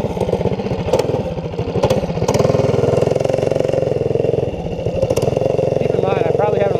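A Doodlebug mini bike's small engine runs close by while being ridden. Its buzzing putter rises and falls as the throttle changes, and a voice is partly audible over it.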